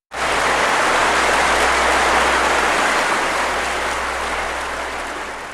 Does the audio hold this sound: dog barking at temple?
no